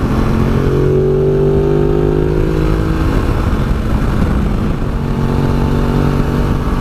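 A 2017 Ducati Multistrada 950 motorcycle ridden along the A413 road, its engine humming loud and steady with a slight rise and fall in pitch, mixed with constant wind rush and no talking.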